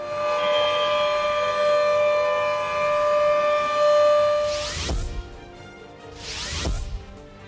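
A GSM-controlled hooter siren sounds during a test: a loud, steady wailing tone that holds for several seconds, then cuts off, followed by two deep rumbling bursts.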